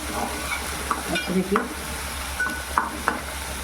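Garlic, ginger and green chilli sauté in a pan for a mixed vegetable bhaji, a soft continuous sizzle broken by several light spoon scrapes and clinks against the metal over a low background hum.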